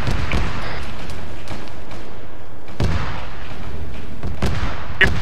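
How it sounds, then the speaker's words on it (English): A Basilisk 203 mm artillery barrage in the Arma 3 war game lands as a series of heavy, booming impacts, several big thuds spread over a few seconds with rumbling tails and no voices. "Basilisk fire incoming on the red circle on the map. Basilisk, for those that don't know, is artillery barrage. 203 millimeter artillery."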